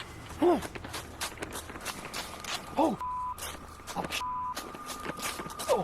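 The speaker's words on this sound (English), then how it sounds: "the camera holder runs from the scene in a panic" Quick, heavy footfalls crunch through woodland brush in an uneven rhythm, with heavy breathing and gasps from the runner mixed in, fairly close and loud.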